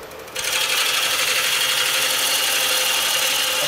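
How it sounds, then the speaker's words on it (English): A woodturning gouge with a 70-75 degree front bevel cuts the end grain of a large walnut bowl on a lathe, a loud continuous hissing shear that starts abruptly and holds steady. "Continuing to use this gouge here with the 70-75 degree front bevel angle"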